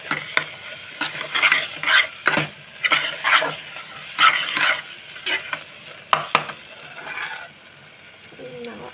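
Spices for a bitter gourd curry fry in oil in a pan, with bursts of scraping and stirring against the pan over a low sizzle, close and fairly loud, in irregular strokes.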